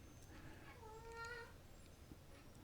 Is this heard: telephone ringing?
no